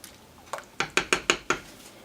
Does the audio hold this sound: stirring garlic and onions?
yes